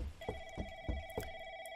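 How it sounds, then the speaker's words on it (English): Telephone in a horror video game rings with a steady electronic trill, several quick pulses of a bright tone repeating evenly, fairly faint and alone. "Ooh, the phone is ringing."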